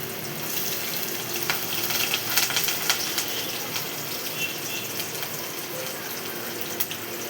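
Onion and ginger paste frying in a pan, a steady close crackling sizzle with light watery hiss running throughout, no voices.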